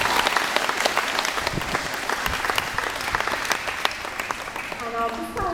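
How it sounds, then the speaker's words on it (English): Dense clapping from a school assembly audience after a maths awards presentation, continuous and fairly loud throughout, with a voice starting to speak near the end. "Let's give them all a huge round of applause"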